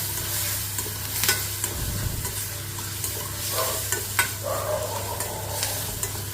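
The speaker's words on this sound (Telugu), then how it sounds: "ఉల్లిపాయలు టమాటాలు కోస్తాను ఇవ్వండి తాలింపు పెట్టేస్తున్నాను" Tempering sizzles steadily in hot oil in a pan, a constant close frying hiss with scattered scraping stirs and light clinks of a utensil against the metal, and no talking.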